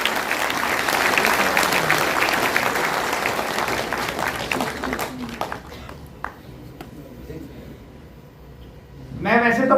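An indoor audience at a Delhi gathering breaks into loud, sustained clapping that fades gradually over several seconds, followed by a fresh burst of applause at the very end.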